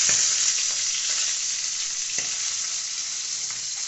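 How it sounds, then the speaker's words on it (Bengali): A fish head coated with salt and turmeric fries in a wok with a constant bright sizzle, close and fairly loud, broken by a couple of soft scrapes from stirring, with no talking. "মাছকে কড়াতে সুন্দর করে ভেজে নেওয়া হচ্ছে"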